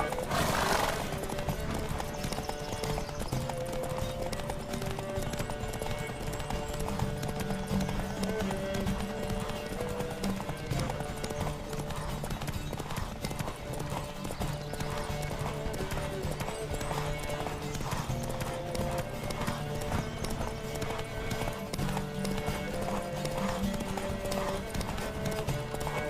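Steady clip-clop of galloping hooves runs throughout, with a horse whinnying near the start, over a continuous musical background, in a video game.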